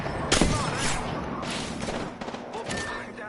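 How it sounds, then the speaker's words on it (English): Enemy gunfire in a shooter video game, a quick volley of sharp shots at close range that thins into scattered cracks, with game noise behind. "I'm taking fire. Oh,"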